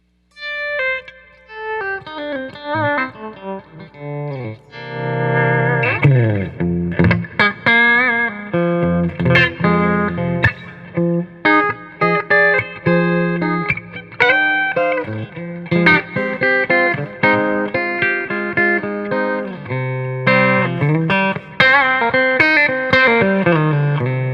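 Electric guitar played through a PRS MT100 amp with heavy reverb and effects, sustained chords and picked notes ringing out loudly and continuously for the whole stretch.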